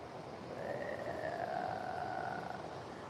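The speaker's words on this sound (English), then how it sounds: "The wind's blowing from the south and it's blowing right over the top of us" Steady broadband wind rushing over the open coast at Snapper Rocks, a continuous close roar that holds even across the clip with no break, alongside faint tonal traces.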